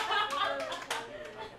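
A short burst of scattered hand clapping from a small group, fading quickly, with a chuckle mixed in.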